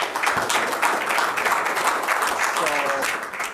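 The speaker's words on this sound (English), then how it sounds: "let's give a big round of applause to MR" An audience claps during a talk with the Indian diaspora, a moderate patter of hands with voices speaking over parts of it and a brief tonal sound near the end.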